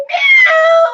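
A single drawn-out meow, voiced by a person imitating a cat, loud and close.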